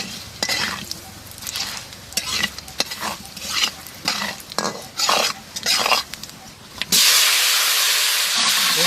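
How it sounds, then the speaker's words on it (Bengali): Bay leaf, black cumin and dried chilli frying in hot mustard oil in a kadai, with a ladle stirring and scraping the pan in repeated strokes, then a loud, steady sizzle and hiss takes over near the end. "কড়াই গরম হয়ে গেছে, সরষের তেল দেবো, কালো জিরে, শুকনো লঙ্কা,"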